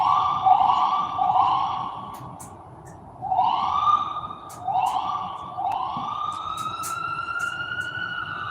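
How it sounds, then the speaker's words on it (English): Wailing emergency vehicle sirens rise and fall in long repeated sweeps, several overlapping, fairly loud over steady background rumble with no talk. "You hear the sirens?"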